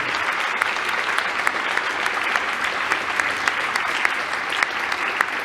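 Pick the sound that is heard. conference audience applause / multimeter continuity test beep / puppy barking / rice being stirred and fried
conference audience applause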